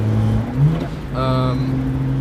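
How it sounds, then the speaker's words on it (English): A BMW 135i with the turbocharged N54 engine lets out a short turbo blow-off valve whoosh around the middle of the pass, heard over steady engine drone with road noise inside the car and a person speaking. "I just heard the blow-off valve"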